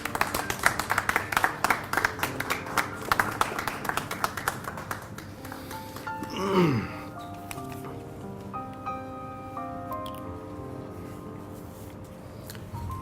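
Audience applause at a Persian poetry event, with a burst of scattered clapping from a seated crowd that fades out after a few seconds and is followed by a quieter stretch.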